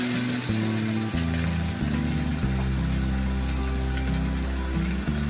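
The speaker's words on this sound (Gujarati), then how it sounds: "એટલા કાંદા લીધા છે અને કડી પત્તા લીધા છે તે એડ કરીશું" Onions and curry leaves fry in hot oil, a dense, continuous loud sizzle with crackling spatter that holds steady throughout, up close and with no one talking.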